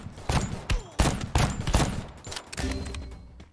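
Gunfire in the mobile battle royale Free Fire Max: sharp, close shots crack in several rapid bursts of loud, punchy reports with short gaps between volleys, tapering into softer pops at the end.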